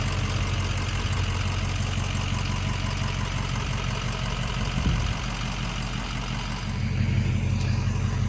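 A dually pickup's engine runs steadily and loudly close by as the truck rocks forward and backward, stuck in mud in snowy weather, the low rumble broken by a brief surge near the middle and rising again toward the end.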